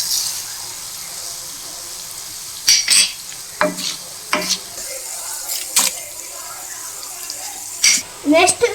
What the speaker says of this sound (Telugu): ఇప్పుడు జీలకర్ర వేసుకోవాలి,